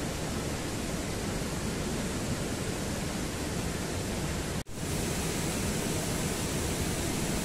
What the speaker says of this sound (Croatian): Vodopad visine 28 metara i širine 120 metara stvara jedinstveni prirodni amfiteatar u kojem možete uživati svim čulima.